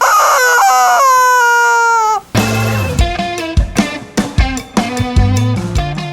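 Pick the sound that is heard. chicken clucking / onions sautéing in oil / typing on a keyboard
chicken clucking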